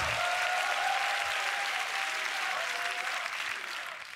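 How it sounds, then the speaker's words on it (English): An audience at the Grand Beatbox Battle 2023 bursts into steady, dense applause that holds at full strength and fades slightly near the end, with scattered crowd noise. "Make some noise. Give it up for FRIIDON"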